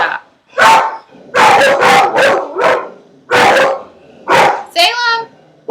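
Dogs bark repeatedly in loud, close bursts separated by short pauses, with a higher yip or whine near the end.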